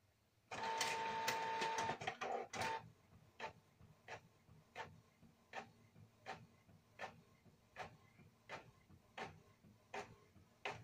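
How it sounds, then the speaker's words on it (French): A home printer starts with a loud whirring burst of feed and motor noise, then settles into a steady series of rhythmic mechanical clicks and swishes as a page passes through, close and quiet, with no talking. "je vais passer dans l'imprimante"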